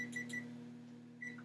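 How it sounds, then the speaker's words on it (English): Kitchen timer being set while pasta boils, a few quick electronic beeps near the start and another near the end over a low steady background hum. "So I'm going to set a timer."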